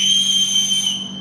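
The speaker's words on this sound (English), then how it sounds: "On the long whistle means to cease fire." A loud, steady whistle blast at a Guam National Guard small unit tactics training exercise, held as one continuous shrill tone that signals cease fire.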